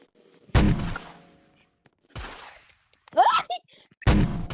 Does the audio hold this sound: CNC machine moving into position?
no